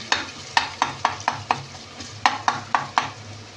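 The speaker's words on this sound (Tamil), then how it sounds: "வெங்காயம் ஒன்று கொஞ்சம் கோல்டன் கலராக வரட்டும்" Onions sautéing in a pan toward golden for a Bombay-style mutton kulambu, with a steady low sizzle punctuated by about a dozen rhythmic spatula scrapes and taps against the pan, close and alone.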